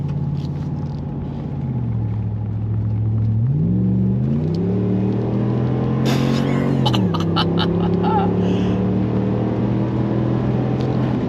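A Dodge car engine rumbles loudly outdoors, idling low then revving up in several rising and falling swells, with a brief burst of crackle near the peak and no talking.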